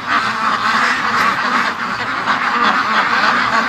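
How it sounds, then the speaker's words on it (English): Free-range ducks crowded at one end of their enclosure during lockdown, many quacking at once in a loud, dense, unbroken chorus close by for the whole stretch. "look at the ducks. They really want out."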